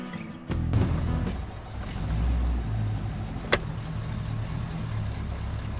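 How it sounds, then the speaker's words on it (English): A car engine runs steadily as the vehicle drives, a low mid-pitched hum with a brief sharp knock partway through, fairly close and continuous with no talking. "This car is shit."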